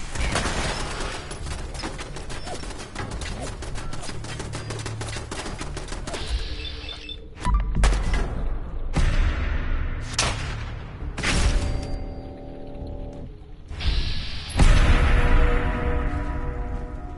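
Pistol fire in Fallout 4, a run of sharp shots and thuds among dense game effects and music, loud and close throughout with bursts spaced every second or two.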